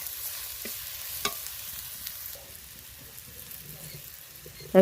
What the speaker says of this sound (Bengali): দিয়ে মশলাটা ভালো করে আমি কষাবো